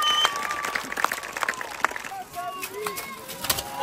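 At a medieval fight show, an outdoor crowd claps for the winner in scattered, uneven bursts, with a voice talking over it and birds chirping in the background.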